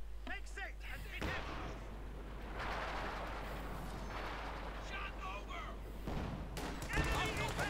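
Video game artillery and light machine gun fire rumble in dense, continuous bursts throughout, with sharper reports near the end, while a voice talks over the battle.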